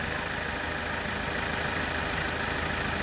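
A freshly rebuilt Toyota RAV4 2.2 D-CAT diesel engine runs on its first start, a steady close, loud idle with rough mechanical knocking and vibration throughout, no voices.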